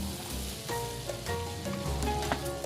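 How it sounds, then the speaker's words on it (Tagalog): Butter melting in a pan for baked macaroni sauce gives a steady, fairly quiet sizzle with soft crackling pops, heard close and alone. "Now, we'll be melting the butter."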